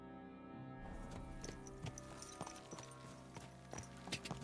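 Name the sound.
horse trotting away, Kingdom Come: Deliverance II video game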